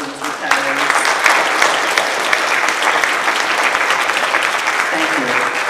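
Loud, sustained applause from an audience at a county public schools board meeting, honoring retiring school staff such as a longtime maintenance worker; steady dense clapping filling the room for several seconds.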